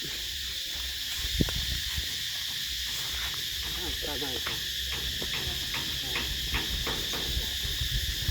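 Cicadas shrill loudly and continuously at a Thai temple gathering, a dense near drone with pulsing chirps, while a voice talks over it.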